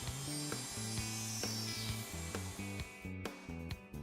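A handheld router cuts box joint sockets in a wooden board guided by a Leigh box joint jig template, a loud steady high whine with repeated dips and surges in pitch as the bit moves in and out of the openings.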